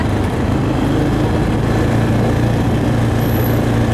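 A four-wheeler ATV engine drones loud and close on a trail in Maine, holding a steady, rough motor tone with no clear pause for a gear change.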